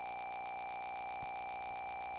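Steady repeating electronic beeping of the low-health warning in The Legend of Zelda, a continuous tone pattern sounding throughout, faint and without speech over it.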